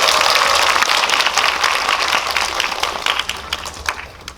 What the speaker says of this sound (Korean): 박수 한번 크게 해주세요.